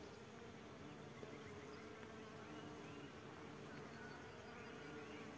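Faint, steady buzzing of bees around blooming viper's bugloss along a roadside in a field in the morning, a continuous hum with soft background noise.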